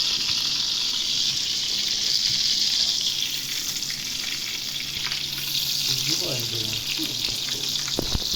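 Pork chops fry in oil in a pan, giving a loud, continuous, close sizzle. A few brief clinks and scraping sounds come near the end.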